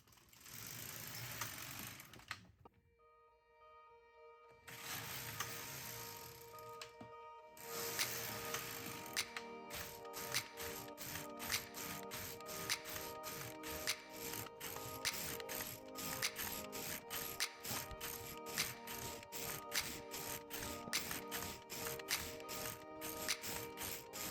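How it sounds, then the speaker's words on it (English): A knitting machine carriage runs across its needles, producing dense rapid mechanical clicking and ratcheting, with a couple of short pauses early on before a long, steady run of regular clacks. "Once you've done your first row, you go back and you push forward every single needle you're going to use and you start knitting"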